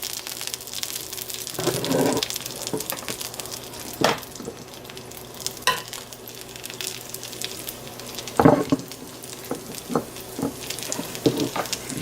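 Onions and mushrooms frying in canola oil in a skillet give a steady close sizzle, broken by scattered louder crackles and stirring clatters.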